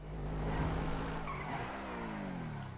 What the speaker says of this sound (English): And what I mean by burn out is almost like peel out.